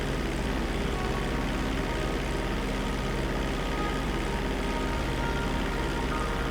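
Steady broadband engine drone of a cargo plane in flight in the video game GTA 5, a continuous loud propeller-and-engine roar with no speech, unchanging throughout.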